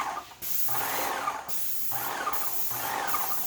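A paint sprayer with a freshly replaced tip test-sprays onto a wall to flush leftover pink paint from the system: three close, loud hissing bursts, each about a second long, separated by short pauses.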